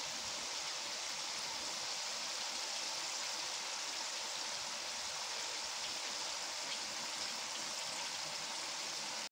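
Potatoes deep-frying in plenty of hot oil, a steady dense sizzling hiss that holds unchanged throughout, close and continuous with no talking.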